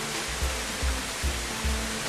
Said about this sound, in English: And this is the same waterfall.